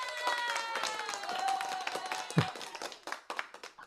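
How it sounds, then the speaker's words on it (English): Participants in an online Toastmasters meeting clap through their microphones, producing patchy, uneven clapping that mixes with voices and tonal sounds over several seconds. "give them all a round of applause"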